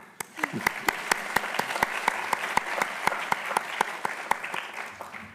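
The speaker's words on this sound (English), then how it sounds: "But we'll clap her anyway." Audience applause at a Hobart College awards presentation, steady and moderately loud for the whole stretch, with sharp individual claps standing out in a regular rhythm near the microphone and a brief voice early on.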